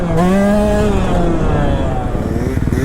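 KTM two-stroke enduro motorcycle held up in a wheelie, its engine buzzing loud and close with a steady harmonic drone that shifts pitch as the throttle eases and picks back up.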